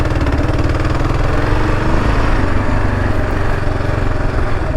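A Kawasaki KLR 650 dual-sport motorcycle riding off-road on rough ground, its single-cylinder engine a loud, steady, close-up thrum with wind rush and no pauses.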